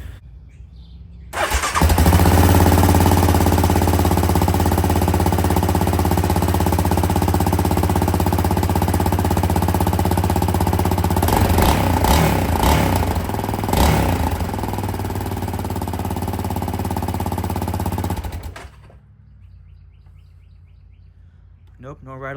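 A Yamaha Raptor 700R ATV, its rear newly fitted with fresh rivets, fires up and idles loudly and close for about seventeen seconds with a few sharp revs in the middle, then shuts off.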